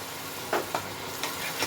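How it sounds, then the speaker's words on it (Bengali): Tomato paste frying in a pan for dum aloo, a steady close sizzle with a few soft stirring scrapes. "টমেটোটা এর মধ্যে ভালো মতো ভেজে নিতে হবে।"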